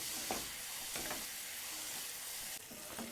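Brinjal and masala frying in sesame oil, a continuous close sizzle with soft scraping stirs of a spoon in the pan recurring every second or so, no voices.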